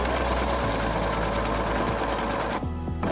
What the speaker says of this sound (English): I would just wonder if there's sewing machines where you can actually go a bit slower